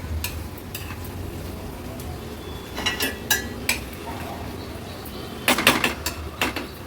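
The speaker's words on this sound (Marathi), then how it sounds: "पुन्हा आपण ही भाजी व्यवस्थित मिक्स करून घ्यायची आहे" Kohlrabi bhaji with freshly grated wet coconut being stirred in a pan, a spatula scraping and clinking against the metal in irregular bursts, louder toward the end, over a low background hiss.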